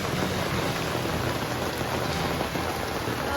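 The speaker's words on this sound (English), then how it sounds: "You can hear the rain up on the awning." Rain drumming on an awning, a dense continuous patter that stays steady and fairly loud throughout with no voices.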